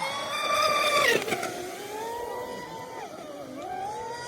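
An RC car with twin brushless motors whines on hot laps, a high electric motor pitch rising to a peak then falling and wavering as it speeds up and slows around the track, fairly near.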